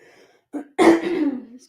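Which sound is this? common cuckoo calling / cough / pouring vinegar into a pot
cough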